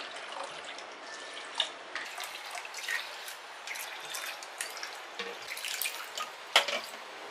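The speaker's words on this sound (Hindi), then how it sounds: "इसमें पानी डाल देंगे।" Water pours and splashes into a small bowl of dal and rice for soaking, at close range, a steady trickling stream with small drips and a few louder splashes.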